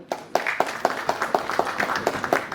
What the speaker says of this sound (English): We welcome you with a huge round of applause, sir.